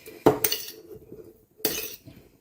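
Salad with marinated feta being mixed in a bowl, two clattering bursts of utensils knocking and clinking against the dish, separated by a short quiet gap, close and without talk.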